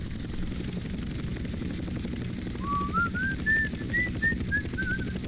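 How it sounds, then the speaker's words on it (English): Helicopter in GTA San Andreas, a steady broadband rotor and engine drone running throughout, with a faint whistling tone rising in the second half. "this helicopter is not as nimble as I want it to be."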